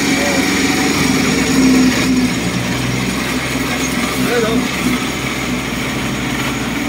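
Motorcycle engine running steadily on a rough road under construction near Dingalan, a continuous close drone with voices talking over it.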